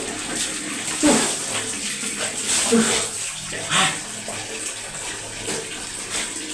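Water splashing and pouring over a person's body during a bath, a steady close rush with a few louder splashes, while a voice speaks briefly over it.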